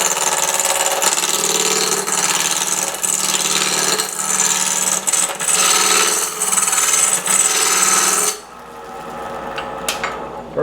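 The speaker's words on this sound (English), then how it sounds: "I'm going to anchor the tool on the tool rest, let the bevel ride on the wood" A wood lathe gouge roughs a spinning wooden blank mounted on a faceplate, its bevel riding the wood in a loud continuous rasping cut with rhythmic pulses, then it drops away abruptly to a quieter motor hum.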